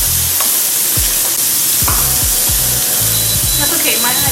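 Diced white onions frying in a hot pan for a sizzling sisig, a loud continuous sizzle and crackle with scraping stirs and low knocks of a utensil against the pan throughout.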